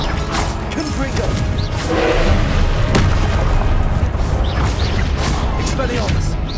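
Heavy booming blasts from the Confringo explosion spell in Hogwarts Legacy, one after another over a loud, constant wash of game combat noise.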